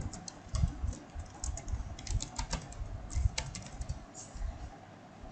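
Someone types on a computer keyboard in quick, irregular bursts of soft clicks and taps, close and quiet, with no talking.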